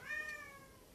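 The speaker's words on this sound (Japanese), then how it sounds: "同居人ちゃんが水場に行くとすごい猫叫ぶ" A cat lets out a loud, drawn-out meow close by, one rising and falling cry that fades through the second with no talking over it.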